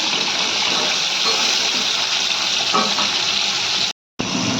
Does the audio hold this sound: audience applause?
no